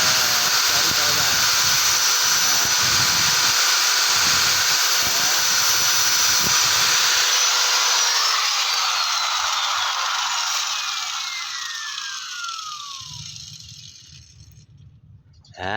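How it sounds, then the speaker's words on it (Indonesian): A handheld grinder working a piston ring, a loud continuous high whine with scraping grit, its pitch sliding down as the tool spins down and stops near the end, under some talk. "Caranya menggerinda seperti itu guys ya, dari bawah jangan sampai dari atas."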